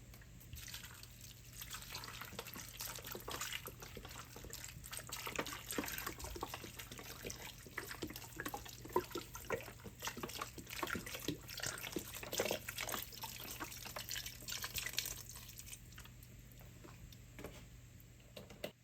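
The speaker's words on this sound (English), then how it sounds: "And now I'm going to pour in my chicken broth" Chicken broth for Cajun red beans pours into a pot in a steady liquid stream with small drips and splashes, continuous for most of the time before easing off near the end, no speech.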